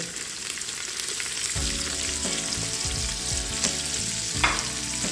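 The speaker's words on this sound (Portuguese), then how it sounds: "Agora então eu vou jogar a minha cebola." Onion sizzling loudly in bacon fat and olive oil, with a steady close crackle and occasional stirring knocks once the onion lands in the pan.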